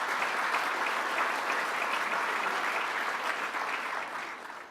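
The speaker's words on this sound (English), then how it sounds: "Let's give him another round of applause" Audience at a business breakfast applauding for a second round after a speaker is introduced, dense steady clapping from a large room that fades slightly toward the end.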